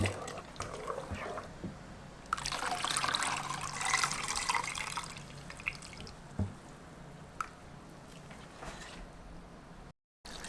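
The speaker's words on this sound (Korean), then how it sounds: "일 식혜물도 같이 부을게요" Sikhye liquid is poured over cooked rice and sweet pumpkin, a close, splashing pour lasting a couple of seconds that settles into light drips and trickles, with a voice talking faintly.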